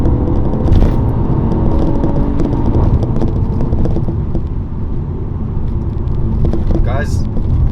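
A Mercedes-Benz GT53 AMG accelerates hard through corners, its engine a loud continuous rumble heard from inside the cabin, with wind noise and someone talking over it.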